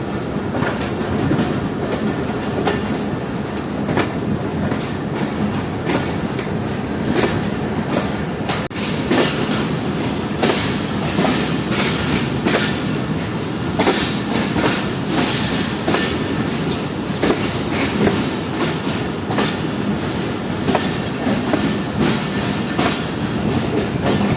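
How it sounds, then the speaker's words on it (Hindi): The Allama Iqbal Express, running between Sialkot and Karachi, rolls into a station with loud, continuous rumble and rhythmic clickety-clack of wheels over rail joints, with occasional metallic squeal. "ये आ रही है अल्लामा इकबाल एक्सप्रेस। सियालकोट और कराची के दरमियान चलने वाली टाइम डाउन।"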